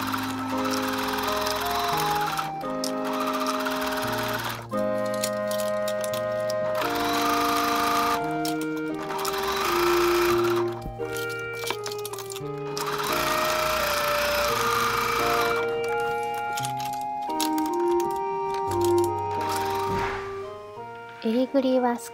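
A sewing machine stitches a facing onto the square neckline of an inexpensive woman's dress, running steadily beneath louder background music for most of the stretch.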